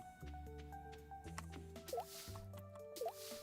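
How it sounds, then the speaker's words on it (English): Ducks splashing into water in the Stardew Valley farming game, two short bright splash sounds over a steady backdrop of game music. "I heard the ducks jump into the water there"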